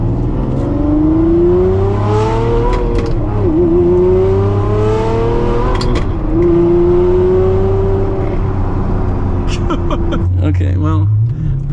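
Ferrari engine revving hard through its exhaust, a loud, close roar rising and falling in pitch over several sustained pulls, with a brief burst of crackle near the end.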